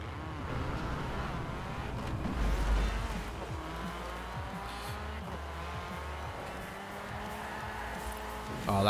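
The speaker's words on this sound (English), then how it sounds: "Now we'll drive this down to the start of the race." A race car in Forza Horizon 4 drives steadily toward the race start, its engine a continuous roar that rises and shifts through gear changes, with faint tire noise underneath.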